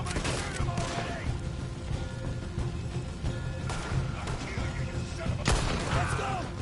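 Gunfire in the Western video game Red Dead Redemption 2: a running gunfight with repeated sharp shots and heavy thumps at irregular intervals, some close and loud, others more distant, over a constant low rumble of action.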